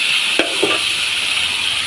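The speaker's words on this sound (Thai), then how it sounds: "ผัดบวบใส่หมู" Zucchini and pork sizzle steadily in a hot pan, with a couple of sharp scrapes of a spatula stirring near the start.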